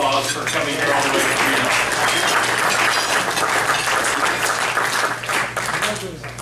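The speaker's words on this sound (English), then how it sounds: "And let's give Bill a round of applause for coming here all the way" An audience claps for a guest, loud dense applause filling the room for several seconds before tapering off near the end, with talk faintly mixed in.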